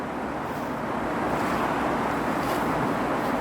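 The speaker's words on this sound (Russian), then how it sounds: "Сейчас ветер подул немножко" A broad, steady rush of wind blows continuously through a winter forest, swelling slightly at times, with no voices.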